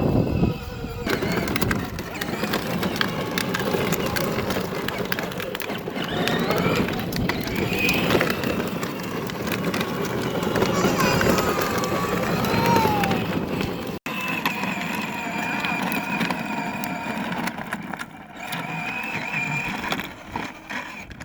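A child's ride-on toy car rolls steadily across grass outdoors, a continuous close rumble of wheels over turf with crackling and brushing texture, loud throughout and briefly interrupted near the middle.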